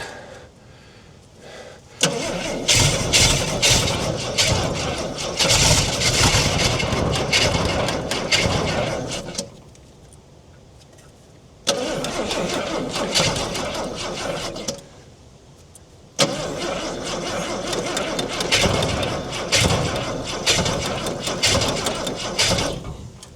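A 1968 Ford Falcon parked since 1990 being cranked and run on choke, three loud stretches of rough engine and starter noise separated by short quiet gaps.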